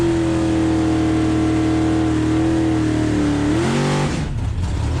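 A drag race car's engine holds a loud, steady high-revving drone during a burnout, then the pitch shifts and falls away sharply near the end.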